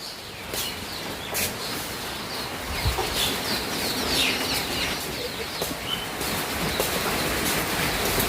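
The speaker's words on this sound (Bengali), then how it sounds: "এটা তো মুরগির বাচ্চা সহকারে এটা কটা বাচ্চা দিছে" A hen with her chicks clucks inside a bakery. The calls sound faint and intermittent over steady, noisy room ambience.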